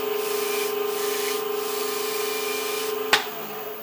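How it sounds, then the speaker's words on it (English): A natural bristle brush presses against a wooden elf figure spinning on a woodturning lathe, making a steady rubbing hiss over the motor's hum, ending with a sharp knock. "we're going to take a natural bristle brush and knock some of those off"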